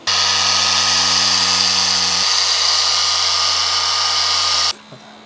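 An electric polisher fitted with a green Delta pad and Menzerna 400 compound runs with a steady loud whine on a car door sill, holding its pitch before stopping abruptly near the end.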